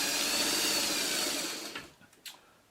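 A sewing machine stitches a quilt block in one steady, close whirring run that slows and stops about halfway through, followed by a couple of soft clicks and taps.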